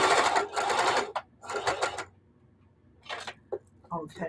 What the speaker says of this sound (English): I'm sewing 8 layers of fabric, including like 4 layers of jeans